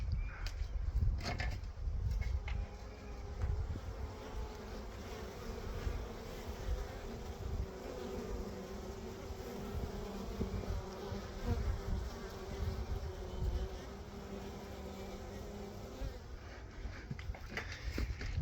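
A honey bee swarm hums continuously during a swarm rescue, a dense steady buzz of many bees close by, holding level throughout with occasional handling knocks.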